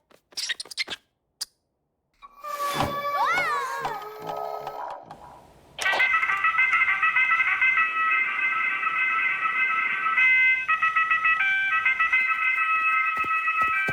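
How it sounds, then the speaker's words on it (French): A cartoon alarm clock rings with a continuous bright electronic trill, loud and steady for several seconds after some cartoon sound effects and a brief rising whistle-like tone. "c'est mon réveil!"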